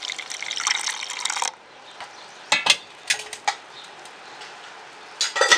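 Liquid being poured, a steady trickling splash of carrot juice, sugar and milk going into a mixer jar, then a quiet gap and a few clinks and light pours near the end.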